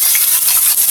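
Blended cabbage frying in hot oil, a steady bright hiss and sizzle with faint stirring scrapes, close and continuous throughout with no talk.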